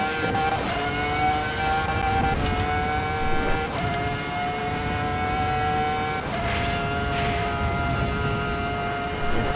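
F1 car engine in Assetto Corsa EVO howling at full throttle down a long straight, a loud, sustained high-pitched scream with steady harmonics and brief dips as it shifts gears.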